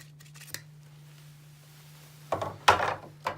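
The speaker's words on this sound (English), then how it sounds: "Back out this blade retention screw." A few short, close metallic scraping and grinding bursts as a lightsaber's small blade retention screw is backed out with a tool, over a faint steady hum, with no talking.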